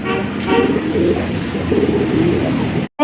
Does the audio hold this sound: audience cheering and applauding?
no